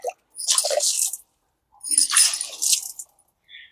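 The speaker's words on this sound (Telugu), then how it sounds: "మనం దీనికి ఇలా నీళ్లు వేసేసి పైనుంచి కొంచెం చిలకరించేయటమేనండి ఇలా" Water is poured and sprinkled onto a potted plant in two short, close splashes separated by a pause, followed by a faint drip.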